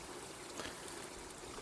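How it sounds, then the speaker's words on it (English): Steady broadband rush of running water, continuous and fairly close, with no talking over it. "Water."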